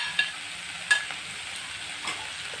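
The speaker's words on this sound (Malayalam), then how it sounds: "എണ്ണ നന്നായി ചൂടായിട്ടുണ്ട് ഇതിലേക്ക് നേരത്തെ അരിഞ്ഞിട്ടിരിക്കുന്ന സവാള ഞാൻ ചേർക്കുന്നുണ്ട്" Sliced onions and shallots sizzle in hot oil for a Kerala-style beef curry, a steady, soft hiss broken by a few light stirring clicks.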